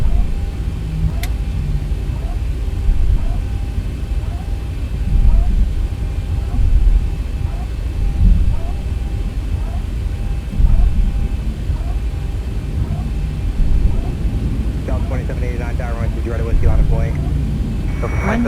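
Boeing 737-800 jet in the X-Plane flight simulator taxiing toward the runway at Glacier Park International, a steady low engine rumble with a faint whine, a few soft cockpit clicks and a brief chatter of switches near the end.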